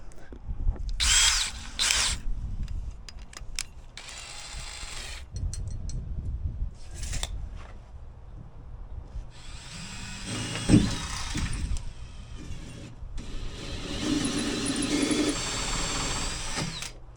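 Power drill boring a hole through the wall of a shop building, whirring in short bursts and then longer runs with grinding and rattling between, at moderate level and close by.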